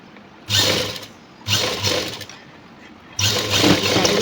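A sewing machine stitches a work jacket in three loud bursts of steady, whirring running, separated by short pauses.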